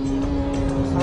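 Honda Civic EK9 Type R with its B16B engine at full throttle in a racing setting, a steady high-pitched engine drone held for about a second, loud and close, with no clear talk over it.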